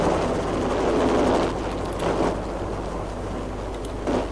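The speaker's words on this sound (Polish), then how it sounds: "Już myślałem, że ten helikopter będzie do mnie strzelać." Helicopter in the Max Payne video game, a loud steady low rotor drone with whooshing wind-like swells, continuous throughout with no speech.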